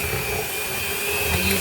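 An electric hand mixer mashes boiled potatoes with butter, salt and pepper in a kitchen, making a steady close motor whir with a high whine throughout.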